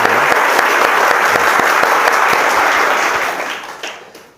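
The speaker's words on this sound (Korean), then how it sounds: "박수 소리가 평상시보다 더 우렁찬데" Loud, sustained applause from a church congregation at a Sunday army artillery brigade service, welcoming a new battalion commander; dense clapping fills the room for about three seconds, then tapers off.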